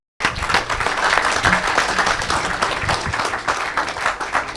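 A church congregation at a Saturday deliverance service applauds together, a dense, steady wash of clapping that starts abruptly and holds at full strength without letting up.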